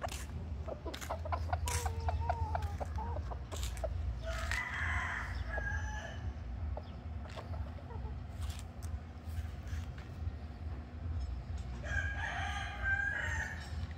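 A young stag rooster, a McLean x Miner blue gamefowl about four and a half months old, crows and clucks on a farm with steady low background noise. The calls are moderately loud and spread across the clip.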